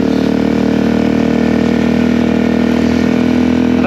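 A Suzuki DRZ 400 dirt bike engine runs at a steady, even pace, a close and loud continuous drone with no gaps from start to finish.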